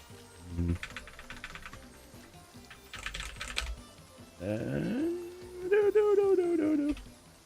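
A computer keyboard clatters in short bursts of quick key clicks, close and fairly quiet, and a voice or tonal sound rises over the later part.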